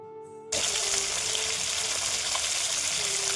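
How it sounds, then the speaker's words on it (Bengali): Water pours into a pot of yam curry on the stove, a steady gushing, trickling wash that runs continuously and close after a brief quiet start, with a faint tonal hum underneath. "তো দেখো জল দিয়ে দিলাম, এবার একটু ফুটিয়ে নেব"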